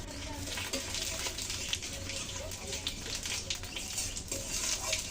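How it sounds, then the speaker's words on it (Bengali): Dry chillies, bay leaves and cumin crackle in very hot oil in a kadai, a steady, fizzing sizzle with small pops. It stays fairly quiet while a person talks over the cooking. "এখন ফোড়নে দিয়ে দিচ্ছি শুকনো লঙ্কা, তেজপাতা, জিরা।"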